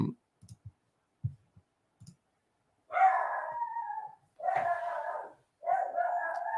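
A pet dog howls in drawn-out, wavering cries, three sustained howls in a row after a few faint clicks and taps, fairly close in an otherwise quiet room.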